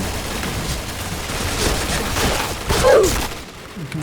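Rapid machine-gun fire in Point Blank, a sustained rattle of shots at moderate loudness with a brief louder burst near the end, played alone without talk.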